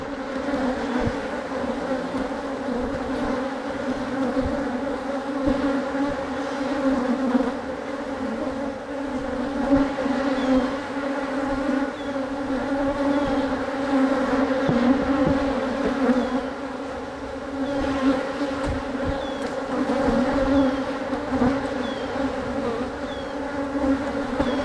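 Honeybees buzz steadily around a hive, a dense, continuous drone that holds at an even level throughout with no voices.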